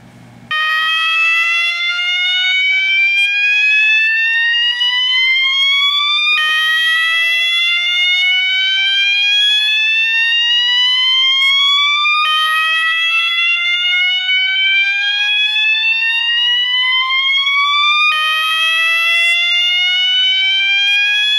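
A building fire alarm system sounds after a pull station is activated, giving a loud, continuous rising electronic whoop that repeats about every six seconds, with no talking.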